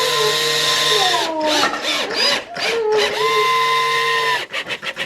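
A power drill whines steadily, then revs up and down in short bursts as it drives a screw into wood, ending with a few quick pulses.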